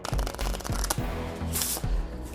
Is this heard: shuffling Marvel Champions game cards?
yes